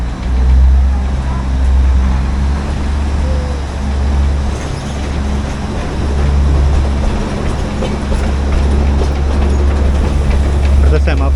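Narrow gauge hill railway train running from Neral to Matheran, a loud continuous low rumble with rhythmic wheel and carriage noise heard from on board, steady throughout with no clear speech.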